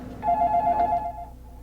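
A telephone rings on set in the middle of an interview take for a Japanese TV crew, a repeated trilling ring with a steady pulse, fairly close and clear, then stopping abruptly.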